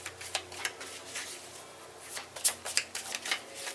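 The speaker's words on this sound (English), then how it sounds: "We'll shuffle 3 times." Tarot cards being shuffled by hand in repeated quick riffling bursts, close and fairly soft, with crisp papery slaps standing out near the end.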